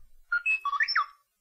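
A bell chimes in a preschool piano music game app, a short bright electronic ringing run of several quick tonal notes lasting about a second, close and clear with no talk.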